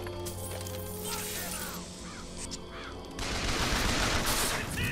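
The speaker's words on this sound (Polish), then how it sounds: "Mordercze kruki." Murderous crows caw in Bioshock Infinite, several harsh calls sounding one after another in the first half, then giving way to a dense burst of loud rattling gunfire-like noise.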